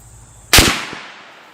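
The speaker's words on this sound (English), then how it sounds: "Let's just go ahead and fire it off anyways." A single sharp gunshot from a T/C Compass deer rifle fired outdoors at a range, loud and close, with a quick decaying echo tail afterward.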